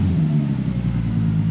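A car fitted with a STILLEN exhaust revs hard nearby, a loud, raspy low rumble swelling and easing over a short burst with no talking.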